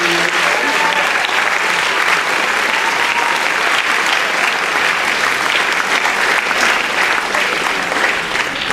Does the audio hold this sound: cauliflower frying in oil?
no